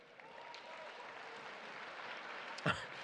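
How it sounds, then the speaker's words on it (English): Steady applause from a dinner crowd at the Harvard Varsity Club senior letterwinners' dinner, a dense even patter of many hands with a brief louder burst near the end. "Where are my managers by round of applause here tonight?"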